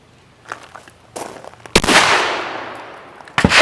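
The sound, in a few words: gunshot at shooting lesson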